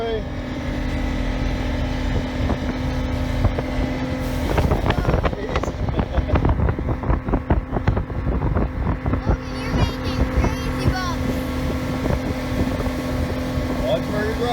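A 1978 Vanguard boat's engine runs on the water for its first run in two years, a steady droning hum with rising throttle surges, wind buffeting and a busy rumble, while people talk over it.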